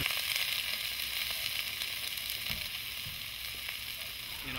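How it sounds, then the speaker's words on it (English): Food fries in a black pan heated by a mirror-lined satellite dish serving as a parabolic solar cooker, giving a constant close sizzle with faint stirring touches and no speech. "Here I'm frying food using a satellite dish lined with a mirror."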